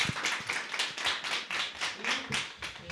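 A small seminar audience gives a short round of applause, with distinct rhythmic claps pulsing several times per second at a moderate, close level.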